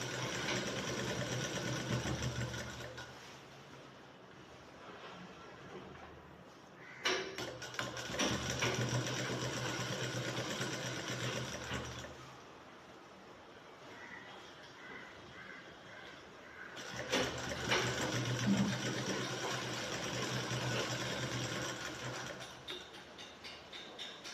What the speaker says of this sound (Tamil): கேன்வாஸ் ஓரமாக தைக்கிறோம்.